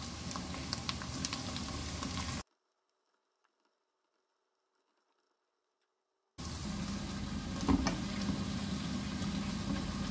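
Onion fries and caramelizes in a pan over lowered heat, a steady bubbling sizzle that cuts out to near silence for several seconds, then resumes just as evenly at close range.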